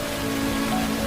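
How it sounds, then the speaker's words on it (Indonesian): Heavy rain pouring over a capital city, a loud, dense and unbroken wash of noise with a faint steady hum beneath it and no voices. "hujan besar melanda ibu kota"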